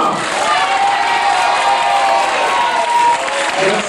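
Steady, dense applause and cheering from a crowd, with children's shouts mixed in, welcoming the president at a New Year's greetings gathering, loud and continuous throughout.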